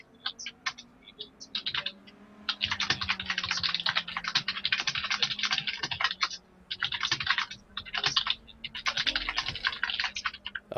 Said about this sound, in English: Apologize for the keyboard.